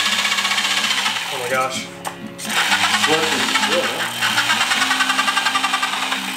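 A power tool chatters rapidly through sheet metal, cutting vent openings for a car radiator. The loud, rhythmic buzzing pauses briefly midway and then resumes, close up, with a short spoken exclamation over it.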